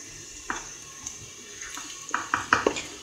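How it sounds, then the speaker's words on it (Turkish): Onions sautéing in a pot for lentil soup, a faint sizzle under a series of close spoon clinks and scrapes against the metal, the stirring growing busier toward the end, no voices. "Hafif pembeleşene kadar soğanlarımızı kavuruyoruz."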